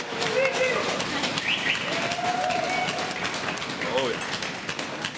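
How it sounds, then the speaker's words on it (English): Guests at a wedding held underwater clap in steady applause mixed with nearby chatter and a few bird-like calls and whistles. "Applause again."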